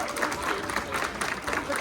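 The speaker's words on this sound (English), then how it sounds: "let's give them a big round of applause in support of all the hard work they did here today" Steady applause from a crowd at an aquarium show, dense clapping filling the space at a consistent moderate level throughout.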